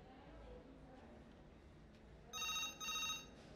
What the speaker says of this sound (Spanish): Voy a atender el teléfono